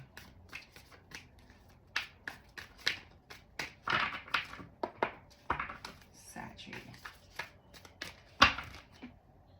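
Tarot cards are shuffled close up, giving a quick rippling patter of riffs and soft slaps in uneven bursts, heard under a person talking.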